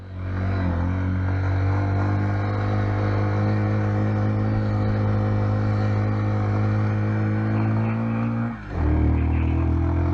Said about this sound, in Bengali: এখানে বাজে যেতে ফার্স্ট গিয়ার লাগাইছি আমি, ফার্স্ট গিয়ারে